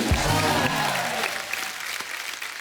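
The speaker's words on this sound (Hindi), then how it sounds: "जोरदार तालियां हो जाए।" Studio audience on The Kapil Sharma Show breaking into loud, dense clapping that starts at full strength and slowly thins out, with a brief voice and crowd murmur underneath.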